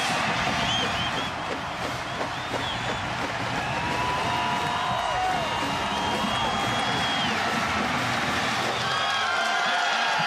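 A college football stadium crowd at Notre Dame versus Purdue in 2009 keeps up a broad, continuous roar of shouting and cheering that fills the whole stretch, with whistles and voices rising out of it.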